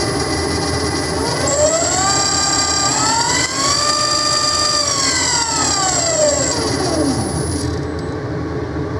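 A loud alternator test rig whines as it spins up, its tone climbing to a high steady pitch, holding, then winding back down, with a constant mechanical roar underneath.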